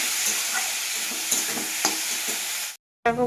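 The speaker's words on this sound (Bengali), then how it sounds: "এটা ভালো করে ভেজে নেবো, তারপরে মাশরুমগুলো দেবো" Mushrooms and onions fry in a pan with a steady, close sizzle and occasional stirring scrapes, cutting to brief silence near the end before the sizzle resumes.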